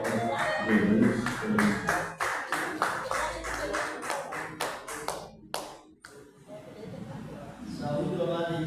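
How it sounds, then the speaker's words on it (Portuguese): Church congregation clapping together during a worship service, sharp rhythmic claps in steady unison that stop abruptly partway through, followed by a brief lull and then a voice speaking. "As palmas das nossas igrejas para Jesus."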